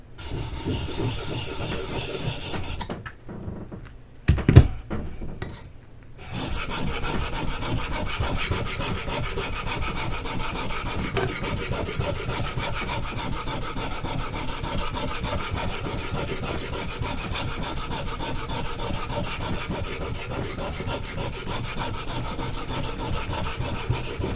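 A knife scrapes back and forth over a Baryonyx American Mutt sharpening stone, dry rasping strokes in a continuous rhythm, close and clear, broken by a brief pause and a sharp knock before the strokes resume.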